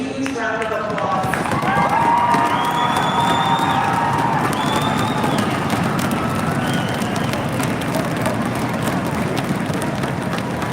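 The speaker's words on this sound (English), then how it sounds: "give all our volunteers a huge round of applause" A large crowd at the 2026 Manitoba Winter Games closing ceremony cheers and whoops for the volunteers, with children shouting. The roar swells loudly near the start and then holds steady through to the end.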